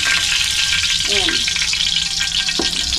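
Used cooking oil, previously used for frying peanuts, sizzles loudly in a hot pan as a steady close crackle, with a couple of brief clinks over it.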